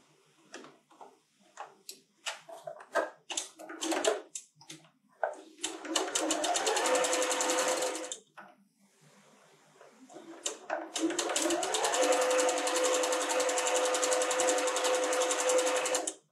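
A sewing machine stitches the last row of a quilt block: scattered clicks and short bursts, then two long steady runs of fast rhythmic stitching, close and clear, separated by a brief pause.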